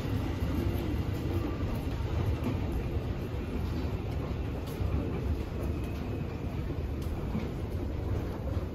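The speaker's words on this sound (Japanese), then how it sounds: "A train is arriving at track 2." Tokyo Metro Tozai Line train pulling into Minami-Sunamachi station during the morning rush, a steady, loud rumbling roar with faint rail clatter that continues throughout without talk.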